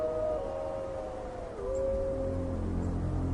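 Wolves howling in Yellowstone in winter, long drawn-out wavering howls overlapping from more than one animal, sliding down and then rising again over a low background rumble.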